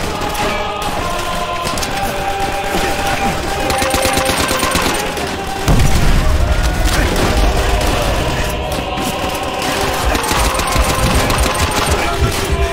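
Rapid bursts of automatic gunfire from Call of Duty: World at War, dense and continuous throughout, with heavier thumping impacts in the second half and no talk over it.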